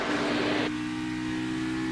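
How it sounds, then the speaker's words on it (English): Engine of a NASCAR Xfinity Series race car at Phoenix Raceway, roaring loudly up close and dropping abruptly in pitch partway through as it downshifts into fourth gear, then holding a steady lower drone. "You heard him shift down into 4th."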